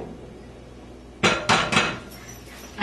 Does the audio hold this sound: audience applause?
no